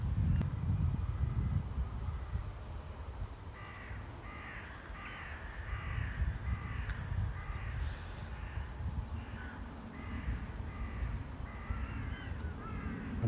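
Crows caw repeatedly over urban water in late November, a series of harsh calls rising above steady wind and ambient rumble, fairly near and continuing through most of the stretch.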